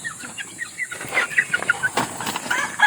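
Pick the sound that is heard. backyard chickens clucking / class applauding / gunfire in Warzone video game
backyard chickens clucking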